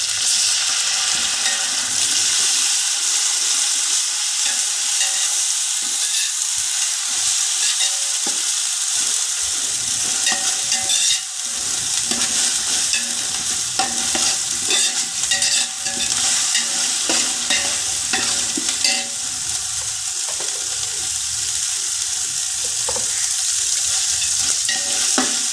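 Ginger garlic paste frying in a large pan, with a loud, steady sizzle and repeated stirring scrapes close up throughout, with no voices.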